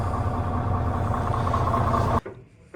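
A Cummins N14 diesel idles in a DAF 95 truck with a loud, even low rumble, then drops abruptly to a quieter background near the end.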